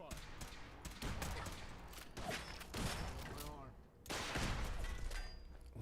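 Rapid gunfire in the Fallout 4 video game: dense, continuous bursts of shots layered over a voice speaking, loud and busy throughout, with a brief dip before a heavier volley.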